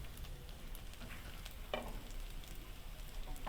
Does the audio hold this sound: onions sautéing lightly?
yes